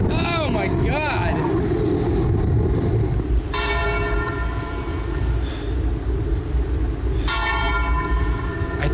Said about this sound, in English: I think those bells mean it's lunchtime.